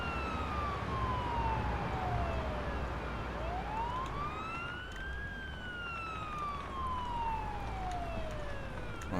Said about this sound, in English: We'll turn that siren off.